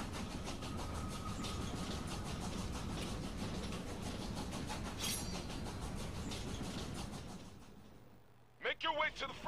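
Train moving along the rails in the video game Killer is Dead, a loud continuous rumbling rattle with rhythmic clacking that fades near the end, followed by brief voice sounds.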